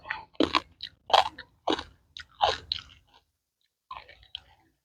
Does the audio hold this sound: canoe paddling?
no